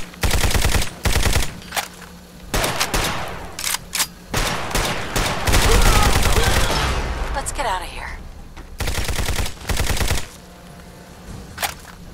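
Gunfire in Fallout 4, repeated bursts of rapid automatic fire in loud clusters separated by short gaps, with a longer roar of blasts and impacts in the middle, close and dominant.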